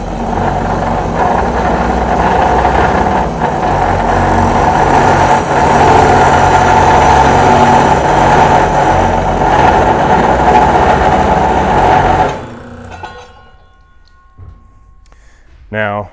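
A Dake Super Cut 315 manual cold saw cuts through the end of a piece of metal tubing with a loud, steady grinding whine that ends abruptly, leaving a brief faint spin-down.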